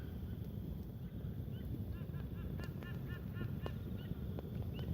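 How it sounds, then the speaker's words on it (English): A white-bellied sea eagle gives a series of repeated honking calls in a quick rhythmic run over a soft windy background. "listening to the white-bellied sea eagle."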